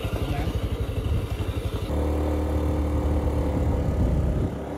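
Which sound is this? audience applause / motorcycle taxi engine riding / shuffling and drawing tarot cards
motorcycle taxi engine riding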